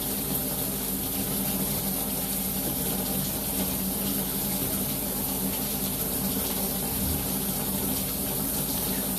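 Tap water runs steadily and loudly down a clogged household drain being rinsed out, a constant broadband rushing hiss with no pauses and no talking.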